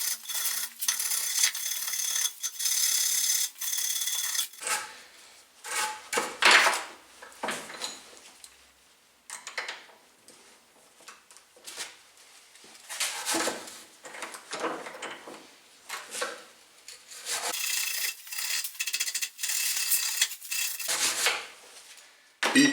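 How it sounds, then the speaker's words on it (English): A wire brush scrubs welding slag off a repaired metal wiper shaft from a Mercedes 230 GE, making close, harsh rasping strokes in repeated bursts separated by short pauses. "A wire brush then removes the rest of the slag."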